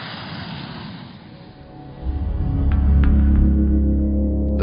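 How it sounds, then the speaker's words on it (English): Dassault nEUROn unmanned aircraft taxiing at high speed, a jet roar that dips and then surges louder into a steady powerful rumble, with no talking. "During intensive high-speed taxiings, dozens of continuous accelerations and brakings are carried out"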